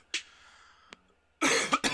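A single sharp cough close up, followed a moment later by a small throat sound, then a louder burst of coughing at the end.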